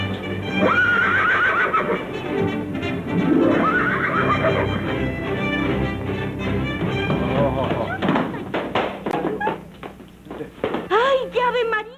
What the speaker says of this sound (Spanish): Uno de los caballos mejor amaestrados de la cuadra de Ávila Camacho figura en la película La Oveja Negra.